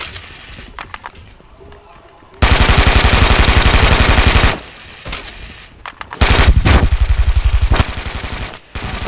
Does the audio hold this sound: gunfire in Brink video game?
yes